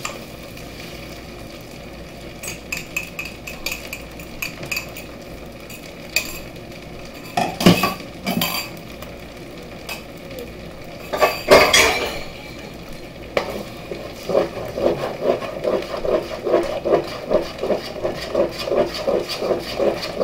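Eggs being scrambled with rice in a frying pan for pork fried rice, with a soft sizzle under repeated sharp scrapes and clinks of a utensil against the pan, building into steady busy stirring.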